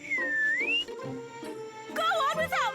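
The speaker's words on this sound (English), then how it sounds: "I was the one whistling." A cartoon character whistles a short gliding tune near the start, followed by squeaky, sing-song cartoon voices and bright musical sound effects in a busy kids' cartoon scene.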